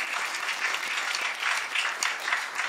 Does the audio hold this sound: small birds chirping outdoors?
no